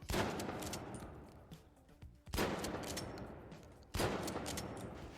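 Video game gunfire tested for bullet dispersion at range comes as sustained bursts of rapid shots, broken by two short pauses, moderately loud and without talk.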